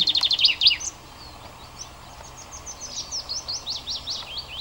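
A wild bird sings beside a road near Loch Voil, starting with a loud rapid trill, then a faint string of shaky whistled notes over quiet outdoor background.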